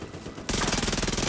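Rapid automatic gunfire in the video game The Division 2, a loud sustained burst of evenly spaced shots that starts abruptly after a quieter moment.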